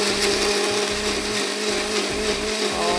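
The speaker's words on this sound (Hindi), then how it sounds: "इसको अब हम पीस लेते हैं, बहुत बारीक नहीं हमें करना।" An electric blender grinding whole red chillies, salt, tomato and garlic into a coarse masala, a loud steady whirring roar with a slight rhythmic churning, close and continuous throughout.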